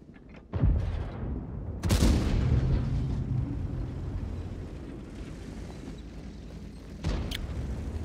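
An AMX 13 105 tank in World of Tanks fires its cannon: two heavy booms close together early on, then a third after a long rumbling lull, each blast loud and near.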